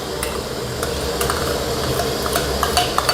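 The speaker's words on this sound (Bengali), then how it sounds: "আমি সরষে, তারপর চালমগজ, পোস্ত পেস্ট করা আছে দিয়ে দিচ্ছি।" Mustard, melon seed and poppy seed paste goes into a hot pan for a prawn and potato gravy, producing a dense close sizzle with stirring scrapes and a few metallic clinks.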